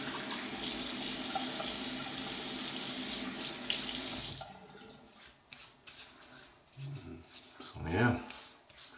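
Tap water runs steadily into a bathroom sink for about four seconds, a bright hissing splash, then shuts off, leaving faint splashing as hands wet the face before shaving.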